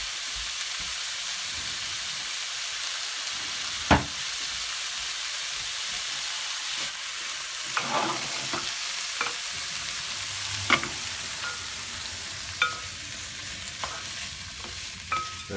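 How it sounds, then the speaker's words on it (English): Eye fillet beef and onions fry in a hot pan for a stew, a steady sizzle and hiss broken by sharp scraping clicks as the mixture is stirred. "we mix the onions and the meat sort of browning a little bit in the heat of the pan"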